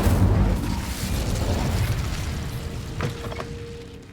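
An Incendio fire spell in Hogwarts Legacy erupts with a loud whooshing burst of flame near the start, then a sustained roar that fades out over a few seconds, with a faint tone lingering at the end.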